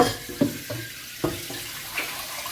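Water splashes and pours into a steamer pot for steaming fish, with a few hollow clunks and knocks of the vessel being handled close by.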